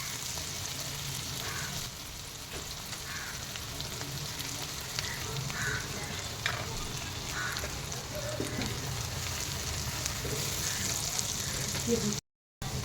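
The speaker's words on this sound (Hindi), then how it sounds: "टमाटर को थोड़ा सा हम भूनेंगे।" Tomatoes fry in a pan with a continuous soft sizzle and occasional light stirring knocks, moderately close, steady throughout with a brief dropout near the end.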